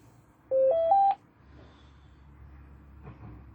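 A quick rising sequence of three short electronic beeps as a Polmar DB-5MKII dual-band handheld radio transceiver powers on, then a low background hum with faint rustling handling noise.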